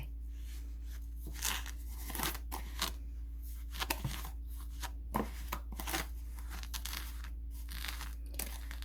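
Eggs being tossed and rubbed with salt by hand for salted eggs, giving crinkly, crunchy rustling bursts in an irregular rhythm, close and fairly soft over a steady low hum, with no talking.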